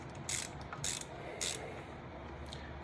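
Wrench working a screw loose on the prop shaft of a Johnson 120 outboard motor: several sharp, close ratcheting clicks in short bursts over a quiet mechanical background.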